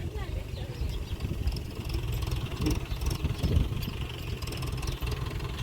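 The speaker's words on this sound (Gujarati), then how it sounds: "ટ્રેક્ટર આવે છે" A tractor engine approaches with a low rumble, chugging steadily at a moderate distance and holding a fairly even level throughout.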